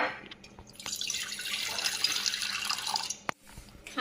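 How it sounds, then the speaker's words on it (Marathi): Water runs into a cooking pan on a gas stove for a rice-flour recipe, a short steady splashing pour of a few seconds that stops abruptly, with no talk. "प्रथम गॅस पेटवू, पातेलं ठेवू, त्यामध्ये पाणी घालू।"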